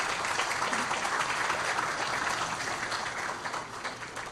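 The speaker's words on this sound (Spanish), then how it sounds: "ha sentido los aplausos de todo el auditorio" An auditorium audience applauds after a speech on energy and climate change, a full, dense wash of clapping that stays strong before tapering slightly at the end.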